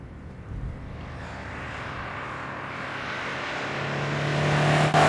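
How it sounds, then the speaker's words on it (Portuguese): A 1983 Honda Prelude's engine drones steadily while driving, heard from inside the car as a continuous hum that slowly grows louder and rises slightly in pitch, with no talk. "Esses motores da Honda são simplesmente adoráveis."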